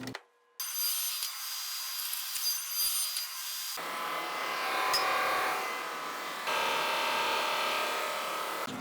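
A power saw cutting wooden boards to length against a stop block on an indoor bench build, with two sustained loud cutting passes and a short gap between them, and no talk.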